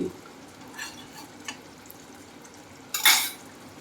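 Prawn rezala cooks in a pan with ghee added. Quiet stirring and soft scraping give way to one loud, bright burst of sizzle near the end.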